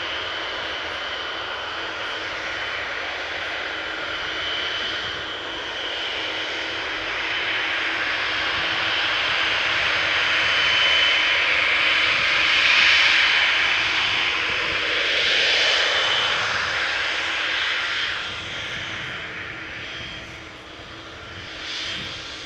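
Boeing 777 airliner engines roar steadily after landing on the Polderbaan runway at Amsterdam Schiphol, a loud continuous rush that swells in the middle and eases toward the end, with no voices.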